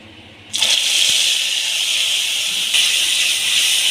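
Spice paste stirred into water hits a hot pan with a loud sudden sizzle that holds as a steady, close hissing roar, swelling again briefly near the end.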